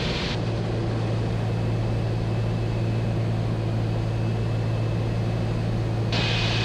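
A light aircraft's engine drones steadily from inside the cockpit while approaching and flying over the Matsaile airstrip, a continuous loud hum with no break throughout.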